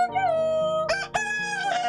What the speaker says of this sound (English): otherwise known as a crow